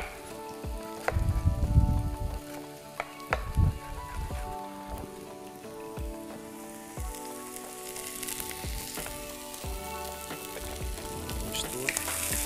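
Broccoli and other vegetables dropped into a hot pan with peppers and frying, a loud sizzling burst at first, then a steady crackling sizzle with occasional clinks of utensils.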